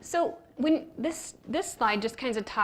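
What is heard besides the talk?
No distinct noise like a dog, phone or traffic.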